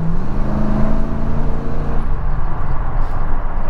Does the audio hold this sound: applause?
no